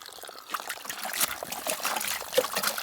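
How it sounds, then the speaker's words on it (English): Water trickles and splashes while rinsing garden soil, an irregular close-up dribbling and spattering that runs throughout, fairly quiet with no voices. "The hardest part is getting it all rinsed out again."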